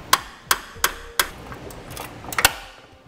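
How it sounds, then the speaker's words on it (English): A hammer strikes a chisel driven between two layers of a base plate kit on a 2002 Honda CR-V, giving about six sharp metallic taps at an uneven pace, close and distinct. "We can also use a hammer and a chisel and come in between the 2 layers and help separate them."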